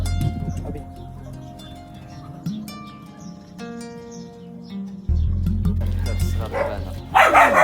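Dogs at a crowded animal shelter in Morocco barking and yelping, mixed with birdsong and background noise, barks scattered and varying from near to distant, with a louder burst near the end.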